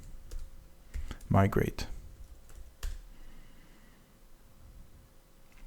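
Keys clatter on a computer keyboard as a rake db migrate command is typed into a bash terminal. A short burst of quick clicks sits alongside a single spoken word, then a few isolated taps follow.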